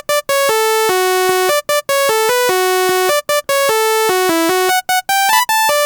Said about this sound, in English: Oh yeah, saw leads.